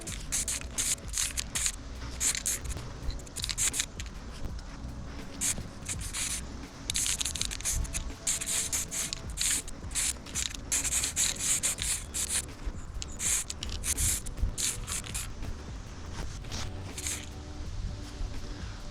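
Lone Wolf bed liner coating is sprayed in repeated short bursts onto a metal climbing stick outdoors in the wind, each aerosol hiss close and sharp between quieter scraping gaps, with no speech.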